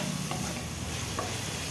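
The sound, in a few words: frying peas, carrots and capsicum in a pan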